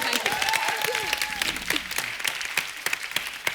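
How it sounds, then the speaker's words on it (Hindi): A studio audience on The Kapil Sharma Show, a Hindi TV comedy show, breaks into loud, sustained applause, with dense clapping filling the room throughout and a few faint voices underneath. "जोरदार तालियां इनके लिए."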